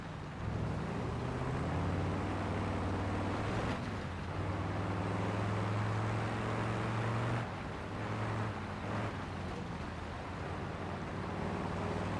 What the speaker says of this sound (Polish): według mnie ten silnik brzmi bardzo dobrze